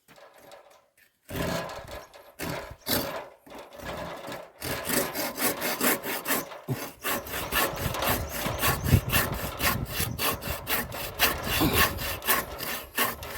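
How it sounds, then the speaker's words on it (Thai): A hand saw cuts through wood in quick, steady back-and-forth strokes, rasping loudly and close after a few hesitant starting pulls. "เลื่อยเล็งด้วยสายตาให้ตรง"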